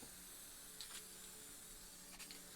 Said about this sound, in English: we're going to spray back and forth across the painting